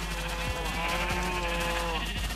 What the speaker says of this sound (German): Das sind ganz schön viele Schafe hier schon, ne?